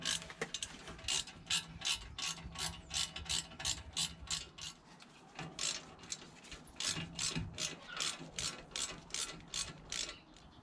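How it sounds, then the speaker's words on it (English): Rapid ratchet clicks in bursts as a ratchet tightens the front brake caliper guide pins on a BMW E53 X5, close and fairly loud, with short pauses between runs of strokes and no talking. "we're ready to refit our guide pins"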